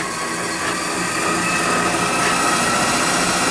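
A metal lathe put in gear at about 2,000 RPM takes a light cut, giving a steady, fairly loud machine whir with faint tonal whine that holds evenly throughout, no voices.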